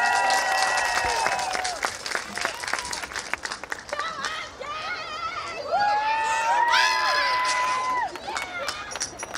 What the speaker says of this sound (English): Let's give her a round of applause as she opens today's ceremony with the national anthem.